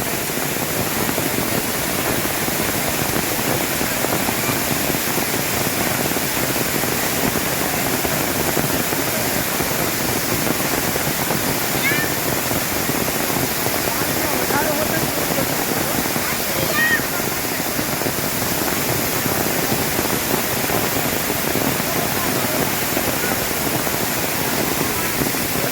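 Rain-swollen Gaumukh waterfall near the Gaumukh temple at Songadh, Gujarat, with rain still falling, roars as a loud, steady, unbroken rush of water that fills the whole stretch, with faint voices at moments.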